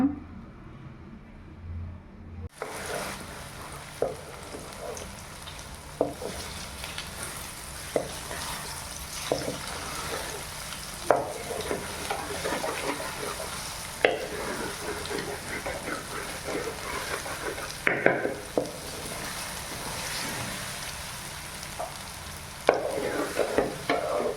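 Beaten eggs sizzle steadily in a hot pan for egg rice while a spatula stirs and scrapes through them, making repeated sharp scraping knocks over the continuous frying hiss, close and fairly loud.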